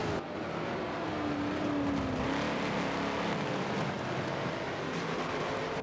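Corvette race car in an endurance race, its engine a loud, continuous roar that swells and drifts in pitch as it passes close by.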